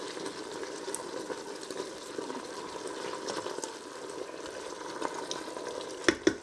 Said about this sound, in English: in with my tomatoes, my sun-dried tomatoes. They've gone in, give them a stir.